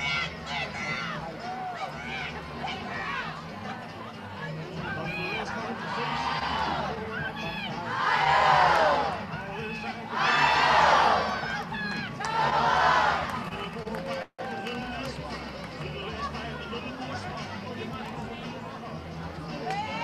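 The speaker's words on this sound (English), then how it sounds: "Crowd very engaged early on." Softball crowd at a Michigan at Ohio State game cheers and shouts in several loud swelling bursts, with steady chatter between them and commentary voices over the top.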